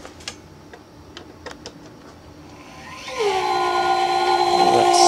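A Lakewood fan motor with re-greased bearings starts up after faint ticking, settling into a steady, fairly loud whir with a tonal hum and a slightly rough, grinding edge.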